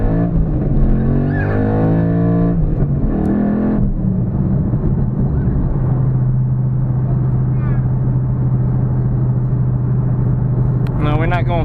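A 2012 Ford Mustang Boss 302 engine drones steadily from inside the car while driving at road speed, a low sustained rumble running throughout, with someone talking over it near the start.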